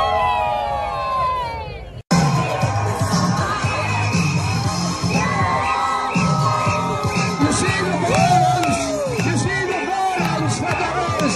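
A crowd cheering and shouting loudly on cue at an outdoor fan gathering, high excited voices and whoops filling the space after a brief pause, sustained and close.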